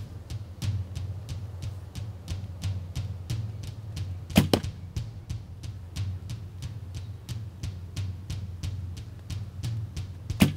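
Arrows without fletching are loosed from a traditional bow in quick succession, each a sharp thwack with a couple of louder hits midway and at the end, close and clear over a low steady background hum.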